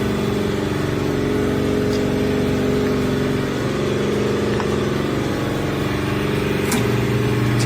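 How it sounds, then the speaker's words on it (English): An SBM 988-680 motor runs steadily during installation, a continuous mid-pitched hum with a faint air compressor somewhere in the background and a brief click near the end. "you can see the motor work."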